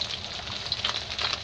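Small fish frying in hot oil until golden, a steady bright sizzle with crackling spits and pops, close and fairly even throughout.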